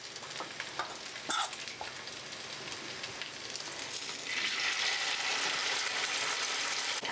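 Food frying in a pan over a medium gas flame gives a steady, close sizzle with one sharp clatter early on. Partway through, the hiss swells louder and brighter and holds there to the end, with no voices.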